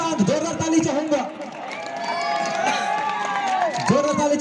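Crowd at a kabaddi tournament final match between Baksahi and Karpiha, with a commentator speaking loudly over a steady background of spectators clapping and cheering.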